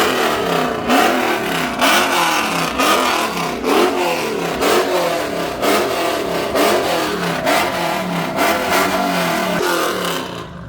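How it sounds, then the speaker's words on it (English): Car engines revving at a car meet, where Plum Crazy purple Dodge Chargers are parked, in a steady run of loud, close throttle blips that rise and fall over and over with no pauses between them. "we need one more rev sesh"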